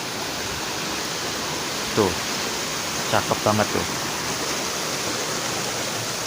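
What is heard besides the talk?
clear flowing river stream on hiking trail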